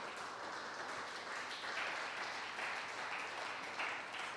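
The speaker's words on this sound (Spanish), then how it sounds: "Give the Lord a hand of praise." A church congregation claps together in steady, dense applause that holds at an even level for a few seconds, a little distant and without voices over it.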